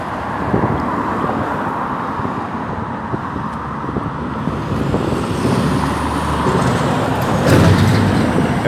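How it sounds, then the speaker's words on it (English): Big trucks roar past on a busy road, a loud, steady rush of heavy traffic close by with engine rumble and a brief hiss near the end. "There we go, big trucks, potholes."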